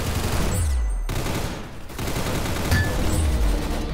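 Gunfire in the Roblox Arsenal shooter game: loud bursts of rapid automatic shots with booming low end, broken by brief gaps, running through the whole stretch with no talk.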